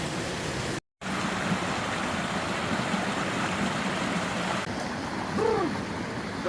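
Wading and paddling through a shallow stream beside old mill ruins in a wooded valley: steady close rush and splash of flowing water throughout, with a brief gap near the start.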